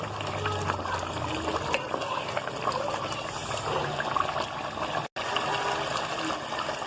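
Masala boti meat sizzling and frying in a pan, a steady dense crackle and bubbling hiss close up with no talk.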